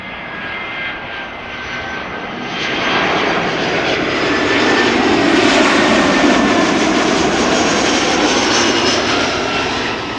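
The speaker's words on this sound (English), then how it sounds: "Vueling up next. Arriving from Bilbao, it's an A320." A Vueling Airbus A320 jet arriving from Bilbao at Amsterdam Schiphol roars past, its engine noise swelling from moderate to loud and holding steady without any voices.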